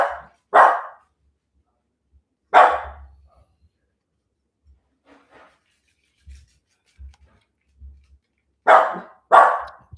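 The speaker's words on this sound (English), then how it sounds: "little ones here are biking, are barking for the bikes" Small dogs bark in short sharp bursts, a pair of yaps near the start, one in the middle and a double bark at the end, with soft rubbing and shuffling noises between them and no talking.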